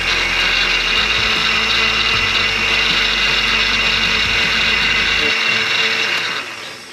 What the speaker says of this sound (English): So 250 watts is what that blender draws.